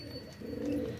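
A pigeon coos once, soft and low, close by in a quiet spot, a short throaty rolling call swelling toward the end.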